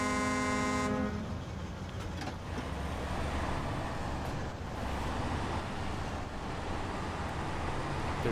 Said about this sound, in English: Especially the big beefy horn like this guy.